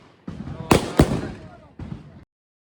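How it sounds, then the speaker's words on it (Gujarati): Chili bomb firecrackers burst during Diwali celebrations in a village, two sharp loud bangs going off close together, followed by a softer crackle and brief noisy rustling. "સ્પેશિયલ મરચી બોમ્બ ફોડવા પડે"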